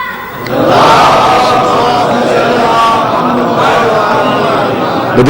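A crowd at a religious majlis chants slogans in unison, a loud, sustained mass of voices that rises quickly after a short lull and holds for several seconds.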